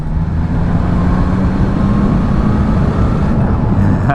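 A Triumph Trident 660 triple-cylinder engine cruises in sixth gear at about 3,000 RPM, a dense steady hum mixed with road and wind rush, continuous and loud throughout.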